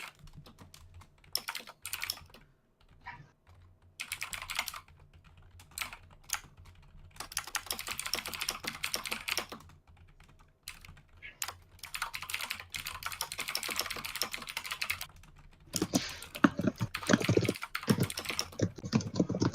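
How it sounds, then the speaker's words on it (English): Several people typing on computer keyboards, rapid clattering keystrokes in dense bursts and pauses, with a heavier, louder stretch of typing near the end and no talking. "I hear some massive typing going on"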